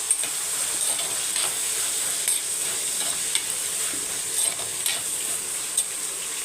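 Chopped onions and salt sautéing in a pan for prawn biryani, a steady close sizzle and hiss with soft scraping and stirring strokes throughout, and no voices.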